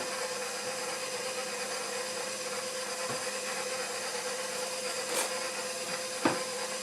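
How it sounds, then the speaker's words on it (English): A stand mixer fitted with a dough hook kneads bread dough, a steady close motor whir with faint thumps as the dough turns, and no talk. "I'm going to let the dough hook do its job."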